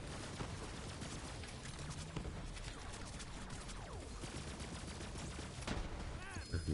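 Rapid video-game gunfire in Borderlands 3, continuous bursts of shots layered over one another with enemy fire and clattering hits, a voice talking over the action.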